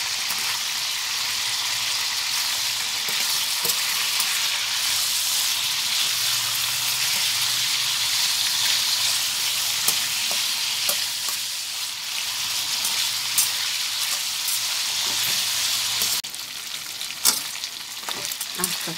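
Pork leg pieces deep-frying in oil, a loud continuous close sizzle that holds steady for a long stretch, then drops slightly near the end with a few clicks, no talk.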